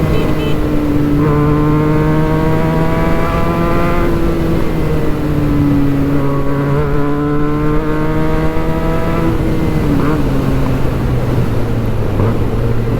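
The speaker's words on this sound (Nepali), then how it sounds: "यस्तो स्मुथ साउन्ड छ है अनि बाइक अति मजा आउँछ क्या कुदाउन" A Benelli 302S motorcycle fitted with a Yoshimura exhaust riding on a highway, its smooth engine drone rising and falling in pitch with throttle changes, loud and close throughout.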